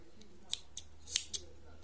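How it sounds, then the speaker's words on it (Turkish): Scissors snipping crochet yarn while making a blanket, bag or vest pattern, giving four short, crisp close-up snips spaced about a quarter-second apart in a quiet room. "İpimi burada kesiyorum."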